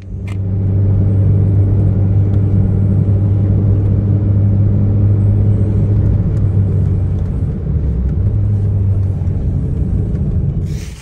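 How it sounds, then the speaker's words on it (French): A Peugeot 205 pulls away, its engine giving a loud, steady low rumble heard from close by, with a slight dip in the drone near the end and no talking. "je repars dans ma magnifique Peugeot 205 logotypée de l'aventure Peugeot"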